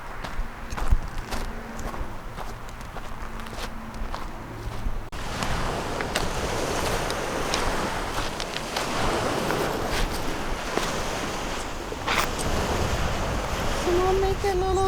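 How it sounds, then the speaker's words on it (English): Steady broadband ocean surf rushes on beside a rest area with a gusty wind, the roar thickening after a few seconds, with faint footsteps and scuffing nearby. "That is right beside the ocean."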